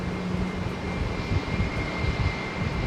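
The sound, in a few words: jet aircraft engine starting up at Heathrow Airport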